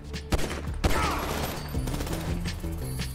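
Enemy gunfire in Grand Theft Auto V: sharp shots cracking out at irregular intervals over a dense game soundscape, with broadband bursts and lingering action noise throughout.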